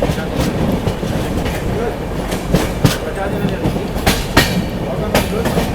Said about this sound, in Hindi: और अपनी ट्रेन निकल चुकी है अब मथुरा से।